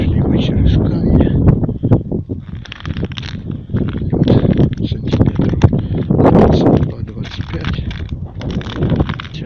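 Strong wind buffets the microphone on a frozen lake during winter ice fishing near a conifer forest, a heavy low rumble rising and falling in gusts while someone talks over it.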